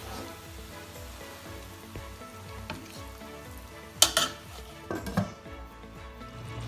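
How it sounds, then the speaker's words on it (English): Pork curry simmering on a low flame in a Mangalorean pork bafat, with a steady soft sizzle and bubbling, then a few louder scrapes and clatters of a spoon stirring the pot near the end. "now I will be making the flame low and giving it a good stir"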